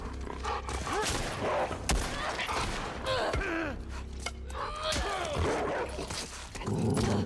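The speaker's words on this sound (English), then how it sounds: "They got another dog to run after me." Dog barking in a shooter-style video game, several rough barks scattered among gunfire-like bursts and game noise, with a player talking over much of it.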